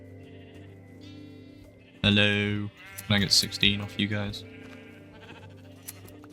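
Sheep in Minecraft bleat between a player's spoken lines, with wavering bleats rising over a quiet background and then overlapping the voice.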